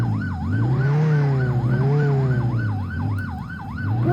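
Ambulance siren from the Roblox Jailbreak video game wails continuously in a steady rising-and-falling cycle, loud and close, with a low vehicle engine hum underneath and no talk.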